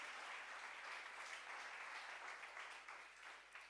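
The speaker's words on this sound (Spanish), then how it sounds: "Dale más fuerte ese aplauso al Señor" Sustained clapping from a congregation of Bible institute students during a sermon on faith, an even, dense wash of hands throughout, heard at a distance and fairly soft.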